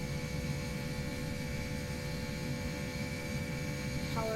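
Jet engines on an Airbus A318 in a flight simulator spool up for takeoff from London City, a steady loud broadband roar with a sustained whine holding level throughout, no voices.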